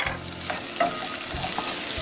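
Salted onions sizzle and soften in a pot over medium heat, a steady close frying hiss broken by repeated scraping stirs throughout.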